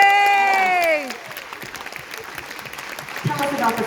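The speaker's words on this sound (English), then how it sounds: "Round of applause for yourselves." A convention audience at a comic con Q&A breaks into applause and light cheering after a spoken line, a busy crowd patter that holds, then swells again as another voice begins.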